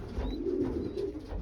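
Pigeons in a loft housing four breeding pairs give soft, low, rounded coos in a short repeating rhythm, close by and clear, with faint chirps above and no talking.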